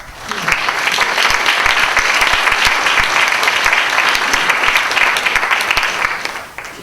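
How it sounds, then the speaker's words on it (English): An audience gives thanks with applause, many hands clapping in a full, steady burst that starts quickly, holds loud for several seconds and begins to taper at the end. "that's worthy of applause as well"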